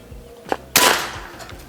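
An LDT Galaxy air rifle firing a 13.6-grain Hercules pellet at bricks, a single sharp crack followed by a short burst of impact noise, loud and close, with no talk.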